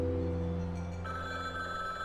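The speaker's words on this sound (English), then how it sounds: "The phone rang." A telephone bell rings in the video game Rainswept, a steady electronic ring over background game music, fairly loud and continuous for the whole moment.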